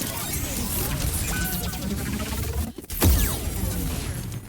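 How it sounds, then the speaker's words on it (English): An explosion in Overwatch during a competitive match: a mix of clashing game effects drops out briefly, then a heavy low boom hits and decays into continued battle noise. "Such a cool explosion sound."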